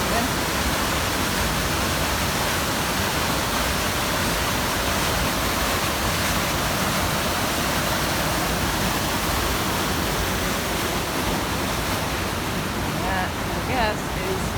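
A fast-moving mountain stream rushes loudly and continuously along a snowy hiking trail in the Baldfaces area, a dense unbroken roar of water close to the microphone.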